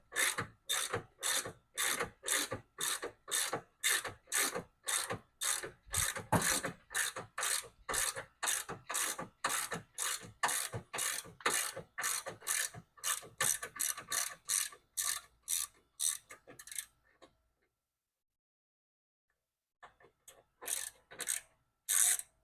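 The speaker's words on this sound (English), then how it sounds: "I'm going to remove these two bolts right here. They are 15 millimeter." A hand ratchet loosens 15 mm bolts with red thread locker on a transmission cooler of a 2025 Silverado 1500 with a 10L80 transmission. Steady close rhythmic clicking strokes run on for long stretches, then stop briefly and resume.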